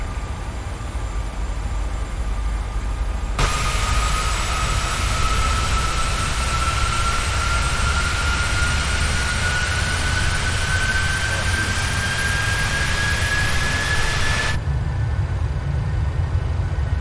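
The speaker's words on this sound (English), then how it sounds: "We'll go on the outside to hear the engines ramp up, okay?" PMDG Boeing 737 CFM jet engines spooling up in Microsoft Flight Simulator, a loud steady roar with a rising whine that climbs gradually in pitch, heard from outside the aircraft with no talking.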